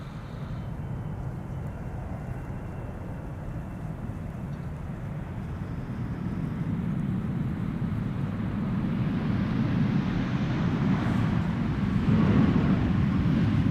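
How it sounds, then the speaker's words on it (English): A KLM Boeing Dreamliner airliner arriving at Amsterdam Schiphol, a low broad jet roar that swells steadily from distant to nearer and louder over the span, with wind noise and no talk. "a Dreamliner from KLM."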